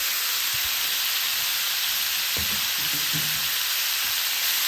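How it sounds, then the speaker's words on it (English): Hamburgers fry in bacon grease in a pan over a cowboy campfire, a loud constant sizzle and hiss with a few soft knocks and scrapes midway. "It ain't gonna hurt anything to cook that in the bacon grease at all."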